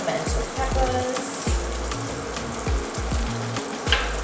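Fresh cut pimento peppers sizzle loudly in melted butter in a hot pan, a steady close frying hiss with repeated low thumps and clatters as the pan and peppers are moved.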